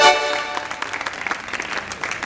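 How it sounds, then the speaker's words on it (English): An audience at an alumni meet and drama evening claps in a brief, moderately loud round, with a short tonal sound at the very start fading under scattered clapping. "Can you have a huge round of applause for yourself?"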